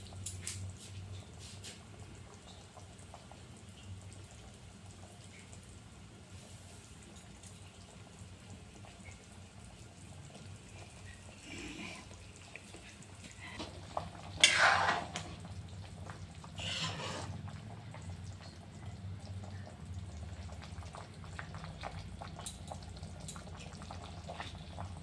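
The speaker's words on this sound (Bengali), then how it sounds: "দেখুন এটাতে বলক এসে গেছে" A pot of foli fish jhol bubbles softly at a low boil, with a faint, steady simmering patter and one brief louder clatter midway; no one speaks.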